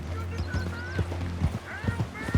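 Horse hooves clip-clopping on the ground in Red Dead Redemption 2, a steady trotting rhythm of soft thuds over a low ambient hum, with brief game-world whistles and speech around them.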